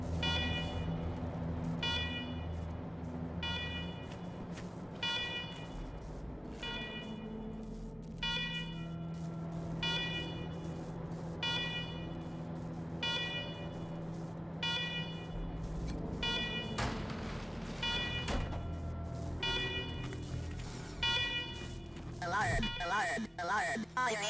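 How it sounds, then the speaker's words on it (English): Repeating electronic alarm blares in the Wasteland 3 video game, with regular evenly spaced beeping pulses sounding steadily over a low hum, with a voice speaking over it near the end. "Alarm, fire alarm."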